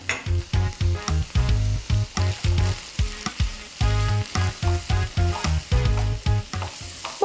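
Tomato paste and spices are stirred as they fry in a pan for a potato and mince stew, a rhythmic series of loud scraping strokes, roughly two per second, over a continuous sizzle.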